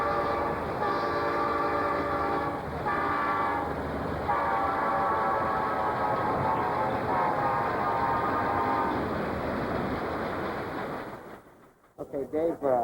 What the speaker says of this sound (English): They blow their horn to warn you that they're coming.